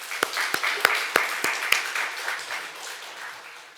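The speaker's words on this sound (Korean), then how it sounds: "우리 하나님께 감사의 박수를 한번 올리겠습니다" A church congregation gives a round of thankful applause at a New Year worship service, opening with several sharp, distinct claps that spread into a softer, sustained patter of many hands before slowly fading.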